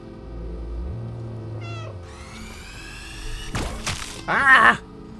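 A cat meows in the video game Stray: a low drawn-out tone, then several rising and falling meows that grow louder, mixed with a thud and a sharp pained yowl at the end.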